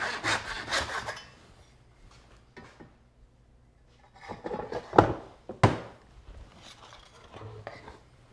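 A hand saw cuts wood held against a bench hook: a run of rasping strokes, a pause, then a few slower strokes with sharp knocks and thunks of the wood, close by and with no one talking.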